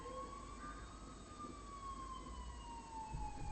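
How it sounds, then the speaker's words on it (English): Distant siren wailing steadily in a slow rising-and-falling sweep, faint and far off over a low rumbling background hum, with no other sounds standing out. "I finally heard sirens in the distance"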